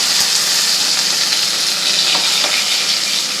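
Onion and tomatoes sizzle steadily in hot oil with a bay leaf, a dense, continuous frying hiss with faint stirring clicks, close and loud with no talking.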